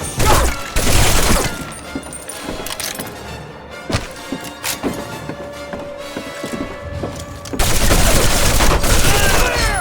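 Dense gunfire rattles in a PS2 war game played on the PCSX2 emulator, loud bursts of fire with sharp shots and clattering impacts, fading briefly before another heavy volley.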